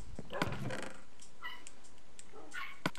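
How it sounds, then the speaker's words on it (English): A small dog barks and yelps faintly in another part of the room, with a few short, scattered bursts over a quiet background. "Oh, I can hear the dog again."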